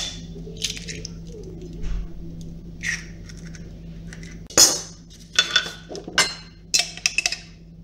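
An egg is added to a bowl of chopped chicken pieces, giving soft clinks of cutlery against the bowl and a wet squish, with scattered sharp taps spaced across the clip.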